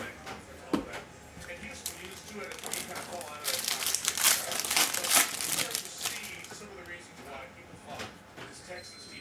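A Prizm baseball card hobby pack being torn open by hand, with crinkling and ripping of the foil wrapper building to louder rustles in the middle and then easing off, while a voice talks nearby.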